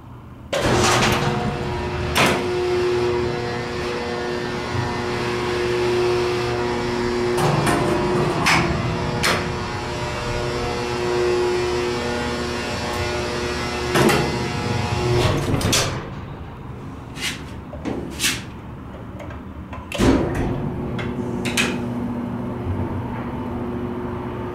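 A Salem traction winding drum freight elevator with CJ Anderson components travelling upward, a steady low mechanical hum with faint whine, broken by several sharp clanks and thuds from the car and gates, close and moderately loud.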